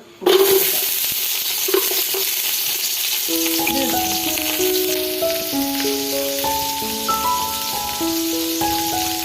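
Masala chicken with ginger and garlic dropped into hot sunflower oil for mandi bursts into a loud, continuous sizzle after a brief quiet start, crackling steadily with occasional clinks of utensils.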